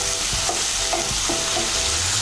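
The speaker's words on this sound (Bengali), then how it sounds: "টমেটো বাটাটাও ভালো করে মিশিয়ে নেব" Ground tomato paste is stirred into spices in a hot pan, giving a few scraping, stirring strokes over a steady close sizzle, with no voices.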